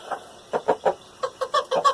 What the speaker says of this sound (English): Then we've got all the other chickens up here,